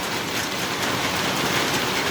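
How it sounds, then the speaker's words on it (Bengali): Heavy rain falling at night, a dense continuous roar of drops on surfaces, loud and steady without pause or voices. "এই যে, বৃষ্টি এখন বন্ধ হবে না।"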